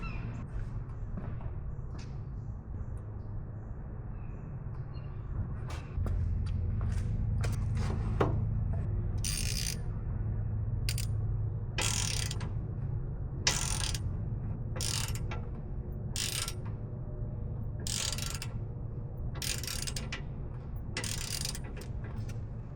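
Ratchet clicks in repeated short bursts while a 15mm sway bar bolt is turned on a 2024 Ford F250/F350 truck during a lift kit install, over a steady low hum, with no talking.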